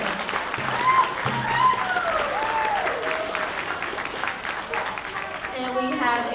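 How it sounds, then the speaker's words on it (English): Audience applause at a tribal gathering honoring a woman who organized the team, crowd clapping mixed with cheering and voices talking over it. "She deserves a big round of applause."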